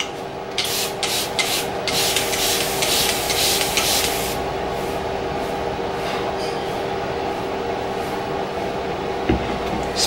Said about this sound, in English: Spray it with water first.